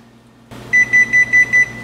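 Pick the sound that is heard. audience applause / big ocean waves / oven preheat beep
oven preheat beep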